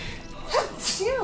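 A single sharp sneeze bursts out close by, with a quick breathy intake and a brief voice just after.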